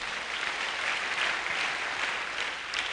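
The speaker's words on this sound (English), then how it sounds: "A round of applause for that, please." An audience at an academic event gives a round of applause, a steady, dense clapping that holds evenly for a few seconds at moderate volume.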